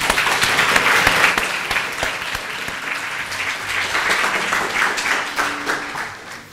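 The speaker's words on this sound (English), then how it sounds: "please give a very warm applause to our guest," Warm audience applause greets a guest speaker at a talk, a dense, sustained wash of many hands clapping that swells early and slowly tapers over several seconds.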